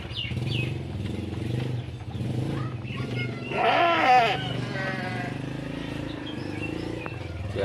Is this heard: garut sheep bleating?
yes